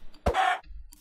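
Chicken in Minecraft giving a single short cluck, close and clear against near silence.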